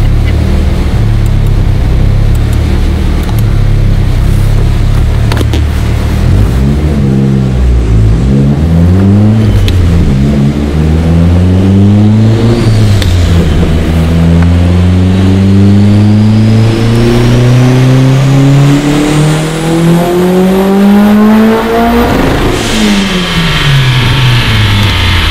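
A turbocharged first-generation front-wheel-drive DSM with a 6-bolt engine, BC 276 cams and 1200 cc injectors, running 27 PSI of boost and slightly rich, revs hard on a dyno. It climbs in a long, loud rising pull before abruptly dropping off near the end.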